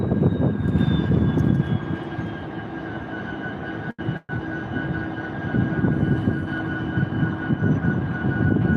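A locomotive idles with a steady low diesel rumble and a faint high whine at a Stevens Point, Wisconsin rail yard, constant and fairly close, with a brief dropout midway.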